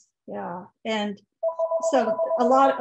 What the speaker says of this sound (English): oh, sorry for the phone.